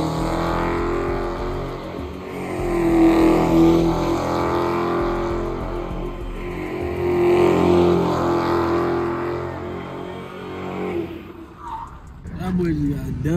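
A stunt driver's car slides at a street car sideshow in Milwaukee, its engine roar and tire screech rising and falling in long waves while people talk and shout loudly over it.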